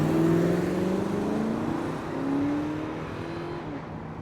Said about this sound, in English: I stepped on the gas like a shot.